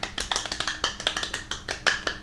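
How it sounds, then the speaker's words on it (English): A small, close group claps steadily, the palm strikes sharp and distinct in an uneven rhythm, with no one speaking. "Round of applause for Acorn."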